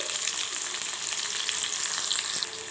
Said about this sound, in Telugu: ఇప్పుడు ఇందులోనే పెద్ద సైజు 2 ఉల్లిపాయలు నిలువుగా కట్ చేసుకొని వేసుకోవాలి